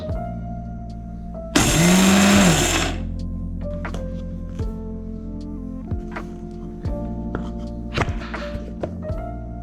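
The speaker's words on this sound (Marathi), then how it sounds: "नंतर मी मिक्सरमध्ये त्याला बारीक केलं आहे." Roasted peanuts are ground to powder in a kitchen mixer grinder: one loud, steady motor whir of about a second, then quieter knocks and thuds.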